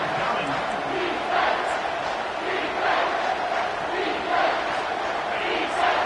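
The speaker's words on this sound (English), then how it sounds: "this crowd will blow out a vocal cord to help this defense" A college football stadium crowd roaring for the defense before a third down, a loud, sustained wall of voices with rolling swells, heard from within the stands.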